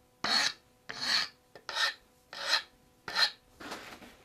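A hand file rasps glue off the wooden dowels of an antique tea cart in six close, separate strokes at an even rhythm.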